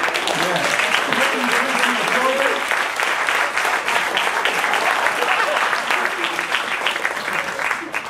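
An audience at a police chief swearing-in ceremony in Marana claps steadily and loudly for the whole stretch, sustained applause filling the room, with a voice speaking faintly beneath it.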